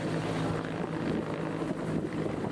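Police helicopter passing overhead as a tribute to a civil police fingerprint expert at a funeral, a steady loud rotor and engine roar with wind buffeting throughout, no talk.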